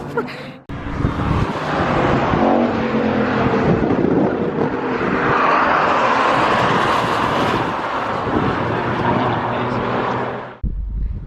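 A car at speed on the Brands Hatch circuit during a track day, a loud sustained engine roar swelling and sweeping past close by for about ten seconds, with wind buffeting, before cutting away abruptly.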